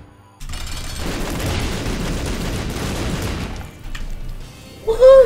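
Bomb blasts in a video game, a dense run of booming explosions for about three and a half seconds, loud and continuous, then a short lull with a brief rising tone at the end.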